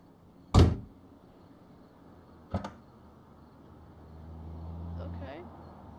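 Sliding door on a truck in the BeamNG.drive driving game, heard as two sharp thuds of the door moving and latching about two seconds apart, followed by a low rising engine hum.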